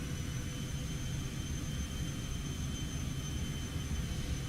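The Cessna Citation X's jet engines run at takeoff power in X-Plane 12 with a steady, loud, broadband roar and a thin high whine running through it, continuous and even with no talking.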